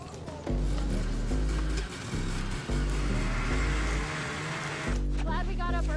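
Rotax kart engines rev at a race start, several loud mid-pitched engines rising and falling in repeated bursts with brief drops between throttle blips, a shifting whine near the end.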